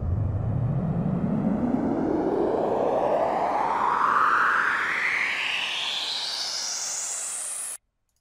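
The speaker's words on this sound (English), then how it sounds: "I used a flanger to add some extra effect." White noise whoosh made in REAPER with a rising filter sweep and flanger: a steady hiss whose tone glides smoothly upward over about eight seconds with a swirling comb-like shimmer, ending abruptly.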